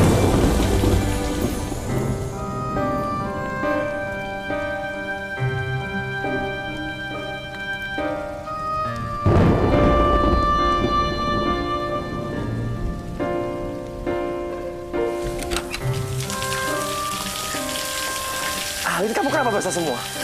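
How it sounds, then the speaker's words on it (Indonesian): Rain falling steadily with thunder in a dramatic scene, a constant wash of drops under a music score, with a heavier rumbling burst midway and a surge of downpour near the end. "Belum juga ini lagi hujan."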